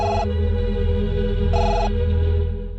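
An electronic telephone bell rings loud and close in a Telugu film scene, a continuous trilling tone with two bright bursts of ringing separated by a pause, fading at the end.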